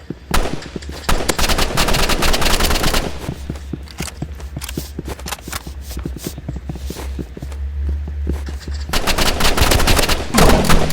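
Rapid bursts of gunfire from the shooter game Rivals fill most of the stretch, loud and close, with dense automatic fire pausing briefly around the middle before heavy shooting resumes near the end.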